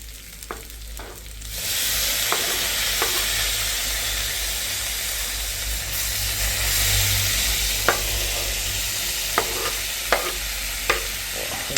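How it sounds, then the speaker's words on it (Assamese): Home-grown tomatoes frying with meat in hot oil give a steady, loud sizzle and hiss, with sharp stirring clacks scattered through the second half and no voices. "এতিয়া বিলাহীখিনি দি পিনে অকণমান সময় ফ্ৰাই কৰোঁ ধুনীয়াকৈ"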